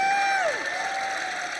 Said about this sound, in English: Let's give a round of applause for Christian.